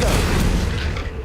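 A short, loud booming blast from the Confringo fire spell in Hogwarts Legacy, a heavy burst that rumbles and fades within about a second.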